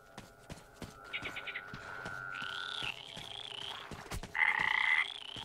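Toads croak in the Metro Exodus video game: a series of distinct, fairly loud croaks and trills in short bursts, with faint footsteps and background game ambience.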